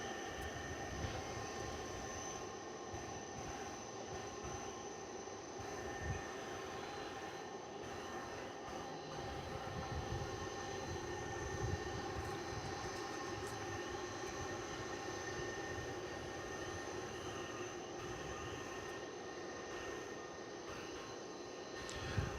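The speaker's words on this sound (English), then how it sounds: "Looks like we've got American Airlines flight 2733 and Airbus A321 poised for takeoff." Low, steady engine rumble and whine from an American Airlines Airbus A321 waiting before takeoff at DFW Airport at night, continuous and fairly distant, with no voices.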